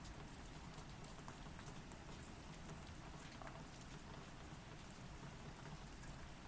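Steady rain falls in the Rashomon setting, a continuous even hiss of drops on surfaces, faint and distant, with no voices.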